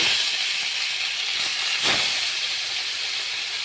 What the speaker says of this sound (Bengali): এবার আমি মাছগুলি একে একে ভাজতে দিয়ে দিচ্ছি